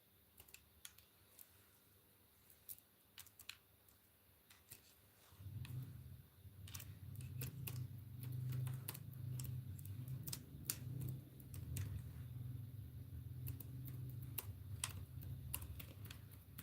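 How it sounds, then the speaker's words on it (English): Rapid, uneven keyboard clicks sound close by during a livestream. After a few seconds a low hum and rumble rises beneath the tapping, while the keystrokes keep going in quick bursts. "I'm about to type mine."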